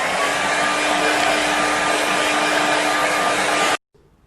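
A hair dryer blows steadily and loudly over a watercolour snow-scene painting for nearly four seconds, a constant whooshing roar with a faint tonal whine, then cuts off abruptly into near silence.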